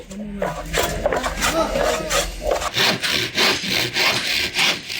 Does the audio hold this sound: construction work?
yes